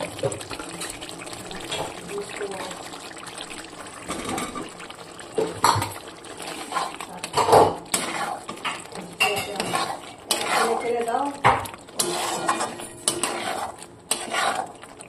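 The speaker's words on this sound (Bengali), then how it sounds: "এবার চিকেনের বলগুলোকে দিয়ে দিলাম।" Chicken kofta balls dropped into a thick, oil-separated curry masala in a pan, with repeated utensil clatter, clinks against metal and soft wet stirring sounds at close range, uneven and busy throughout.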